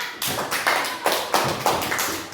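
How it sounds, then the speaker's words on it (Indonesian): A classroom of fourth-grade pupils claps in unison, a few sharp rhythmic bursts of hand claps repeating about every half second, close and fairly loud, with no talking over it. "Tepuk tangan untuk kita semua."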